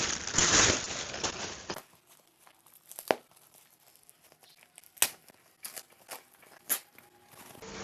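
Packaging for a bike hand guard is torn and crinkled open during an unboxing, with a loud rip at the start followed by quieter rustling and several sharp crackles and tears, close up with no talk.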